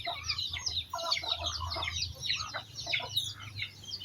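Chickens cluck and chirp busily at feeding time in a rural yard, their calls quick and overlapping, at a moderate distance over a low background hum.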